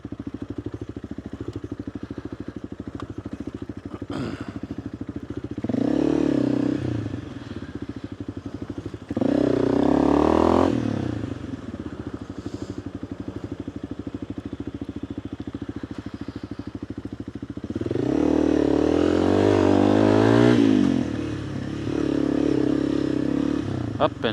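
Motorcycle ridden over a rough, washed-out rocky trail at Turkey Creek, the engine droning steadily and revving hard in repeated surges as it climbs, with clattering bumps and thuds from the terrain, close to the microphone.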